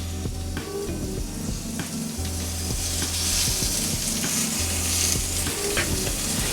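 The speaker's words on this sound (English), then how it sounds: "Yeah, we want that quiet sizzle sound." Eggplant slices laid on an oiled grill sizzle steadily, a continuous close, crackly hiss that swells slightly midway, with no talk over it.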